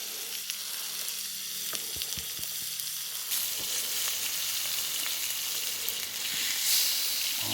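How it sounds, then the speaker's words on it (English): Lamb T-bone steaks searing in butter in a hot pan, a loud continuous sizzle that swells midway, with a few faint knocks and no talk. "As long as you sear them, right? Get that sear on there, get that caramelization,"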